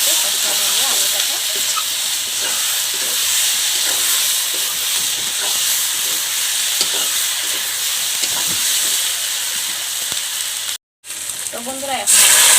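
Potatoes frying in a pan with turmeric, salt and spices for a village-style desi chicken curry give a steady, loud sizzle and hiss. The sizzle breaks off briefly near the end and then comes back.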